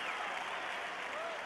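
Crowd applause from the VR golf game Golf+, a steady broadband wash of clapping filling the whole moment at moderate level after a shot lands on the green, with no talk over it.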